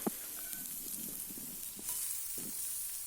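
Tomatoes for a tomato curry sizzle faintly in a pan, a soft, low hiss broken by a few light clinks and stirring knocks.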